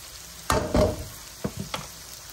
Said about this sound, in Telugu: ఇవి గోల్డెన్ బ్రౌన్ వచ్చే వరకు కూడా వేగాలి ఉల్లిపాయ ముక్కలు.